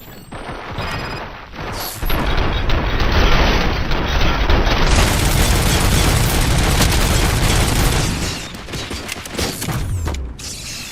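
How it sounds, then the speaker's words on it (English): Gunfire and explosions from the RoboCop: Rogue City video game, a dense, sustained loud barrage of shots and mechanical clatter building after the first couple of seconds and fading near the end, with no talking. "Fire at will."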